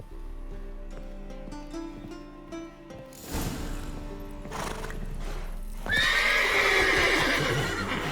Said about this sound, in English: why do the horses make noises?